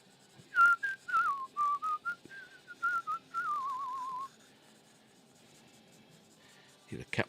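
A person whistles a wandering melody close by, with short phrases and a long held wavering note, then quiet and a soft knock at the end.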